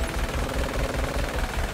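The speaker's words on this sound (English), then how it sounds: "I have a minigun." A minigun fires nonstop in the Paladins video game, a rapid, unbroken rattle of shots that stays loud and close throughout.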